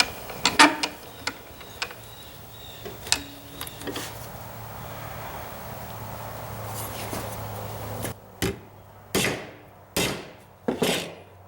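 Sharp hammer taps bending an aluminum kayak transducer mount, a few scattered knocks early on and then a clear run of about five evenly spaced blows, close and distinct against a quiet workshop background.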